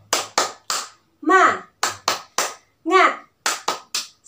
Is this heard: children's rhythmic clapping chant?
yes